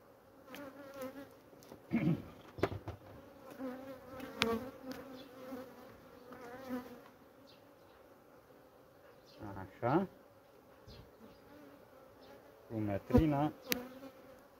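Honeybees buzzing at a hive during a treatment, a continuous close hum that swells as bees fly up around it, with someone talking intermittently over the swarm.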